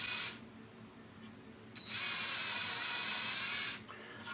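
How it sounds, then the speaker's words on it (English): A drill bores into a mahogany PRS-style guitar body, a steady high whine that stops briefly and then runs loud and even for nearly two seconds before cutting out, close to the microphone. "The drill bit's actually pulling me in, so I have to be pretty careful."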